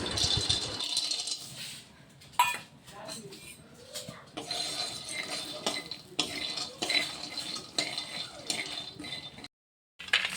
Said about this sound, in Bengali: এখন বাদাম ভেজে নিচ্ছি।